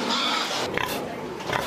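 Many pigs on a large pig farm in Boituva, São Paulo, grunting and oinking together in a continuous dense barn din, with brief louder squeals.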